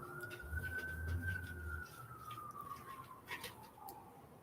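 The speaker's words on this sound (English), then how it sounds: "You can hear the sirens." A police siren wails far off, its tone sliding slowly up and down for a few seconds over quiet background noise.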